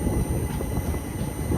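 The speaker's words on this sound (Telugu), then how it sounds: "చూడండి మన ట్రైన్ ఏమో గుహలో నుంచి వెళ్తుంది అనమాట" Prasanthi Nilayam Express rolling through a tunnel just past Puttaparthi, a close, steady low rumble and roar of the train filling the enclosed space without pause.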